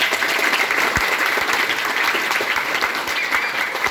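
Audience at a talk on reading applauding, a steady wash of many hands clapping, moderately loud and even for the whole stretch with no talk over it.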